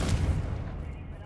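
A Confringo spell blast from Hogwarts Legacy booms with a heavy, low-end burst that rumbles briefly and fades out within about a second.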